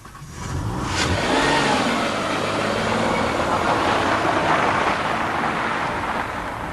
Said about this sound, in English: the Peugeot delivers that punch very much in a velvet glove